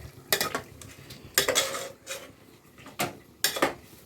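Chicken with ground green masala stirred in a pot, with a spoon scraping and clanking against the metal in about five distinct close bursts separated by quiet gaps, no talking.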